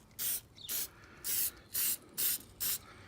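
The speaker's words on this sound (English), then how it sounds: "Make sure you put a coat of spray tack on that." Seven short bursts of spray tack adhesive hiss in a steady rhythm onto a small block Chevy valve cover gasket, close and fairly loud, with quiet pauses between each spritz.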